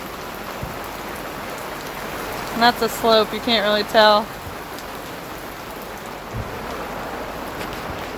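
Rain falling steadily on a tent while camping, a constant even hiss throughout, with a person speaking briefly in the middle.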